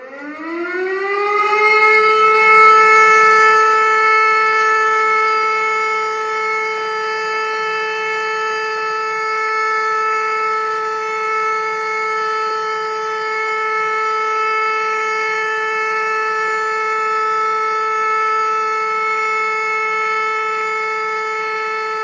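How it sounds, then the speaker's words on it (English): A civil defense all-clear siren winds up over a couple of seconds, then holds one loud, steady, unwavering tone for a long stretch. "Now listen into what an all clear siren sounds like."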